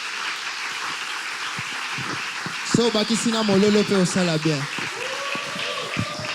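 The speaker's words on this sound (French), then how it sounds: "Applaudissons pour le Seigneur." Church congregation applauding during a sermon, a steady wash of clapping running the whole time, with a voice speaking over it and a brief burst of singing or shouting in the middle.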